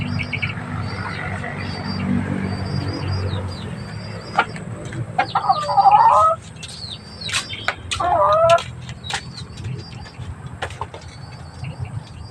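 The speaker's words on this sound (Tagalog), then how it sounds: "Inis ako sa mga manok nito lagi." Backyard chickens clucking around a lemon tree, with scattered clucks and chirps close by, a couple of louder squawking bursts, and a faint voice now and then.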